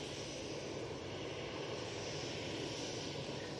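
A steady, even jet rumble from an easyJet Airbus A319 airliner at Manchester Airport holds without change for several seconds, moderately distant and with no speech.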